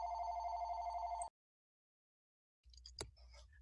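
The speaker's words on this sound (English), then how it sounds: "my phone is ringing" A telephone rings with a steady electronic trill for over a second, then cuts to silence before faint clicks and handling sounds follow.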